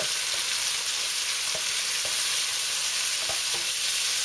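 Steady sizzling of food frying in a pan, a constant bright hiss with a few faint clicks and stirring taps.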